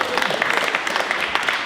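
Audience applause for Alain Montois at the 50th anniversary celebration of the Léo Lagrange photo club in Armentières, a dense, steady wash of many hands clapping that holds evenly throughout with no talk over it.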